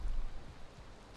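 Rain in the Valheim video game, a steady broadband hiss of falling rain with low rumble, fairly loud and alone.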